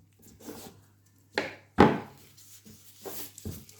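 Knife slicing the top off a courgette, a few short dry scraping cuts and one sharper crunch, close and clear against quiet.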